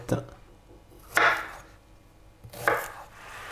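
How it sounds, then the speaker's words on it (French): A knife chops asparagus into 5 cm pieces on a board, three crisp separate cuts spaced about a second apart, close and fairly quiet. "On va couper des tronçons d'à peu près, voilà, allez, 5 cm."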